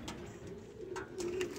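Spanish Pouter pigeons at a pigeon show, soft low cooing that runs steadily through the moment at modest volume, with faint background noise and no voices.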